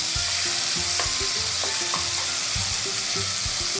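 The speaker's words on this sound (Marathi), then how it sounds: "हे प्युरी काजू कांदा आणि टोमॅटो हे याच्यामध्ये परतून घ्यायचं" A puree of cashew, onion and tomato is sautéed in a pan with a continuous loud sizzle and frying hiss. Occasional scraping stir sounds come through, and no voices are heard.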